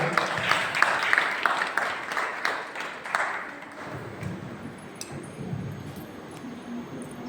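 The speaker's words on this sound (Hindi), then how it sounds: "एक बार फिर से सभी के लिए जोरदार तालियां।" An audience claps for a children's play at a Digambar Jain gathering. Dense, loud applause fills the first few seconds, then thins and fades under murmuring voices.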